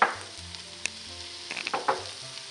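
Ground spices for chili, coriander, chili and cumin powder with pepper flakes, sizzle and fry in hot oil in a pan, a steady close crackle with small pops and stirring scrapes.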